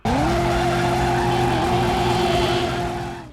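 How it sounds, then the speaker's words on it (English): A car's wheels spinning in place in the PS1 game Driver, a loud sustained tire squeal with a steady engine drone running for about three seconds before fading out. "The game had a dedicated button just to do a wheel spin."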